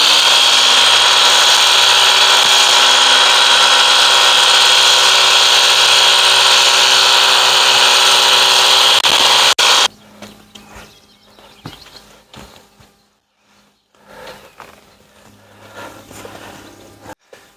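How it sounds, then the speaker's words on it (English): A Ryobi EZClean pressure washer with its foam blaster attachment (model RY3112FB) sprays a soap mix in a loud, steady, close hiss for about ten seconds, then cuts off, leaving quiet clatters and faint background noise. "Got our foam blaster on with our mix, so let's go ahead and soak her down."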